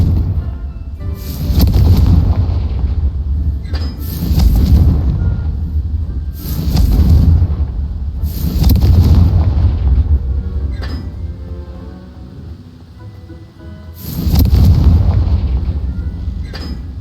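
Repeated booming fire-spell explosions in the video game Hogwarts Legacy, five loud blasts spaced a few seconds apart, each with a sharp crack and a long low rumble.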